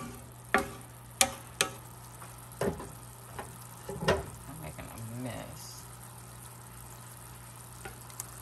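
Lamb chops frying in a pan of thickening sauce, with a steady low sizzle broken by several sharp clicks and knocks as the chops go in, then quieter bubbling.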